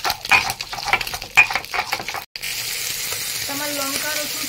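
Ten green chillies and twelve or so garlic cloves are ground together into a paste with quick, rhythmic, close scraping strokes. These are followed by a pause and someone speaking.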